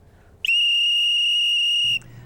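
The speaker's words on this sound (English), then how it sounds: "think about having a whistle in your kit. It'll help let your neighbors know if you need any sort of help" An emergency whistle gives a single loud, steady, shrill blast of about a second and a half, heard alone with no other sound.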